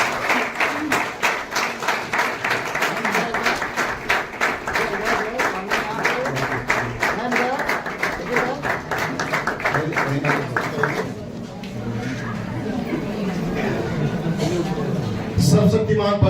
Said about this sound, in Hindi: तालियों को बजाएंगे आप सामने।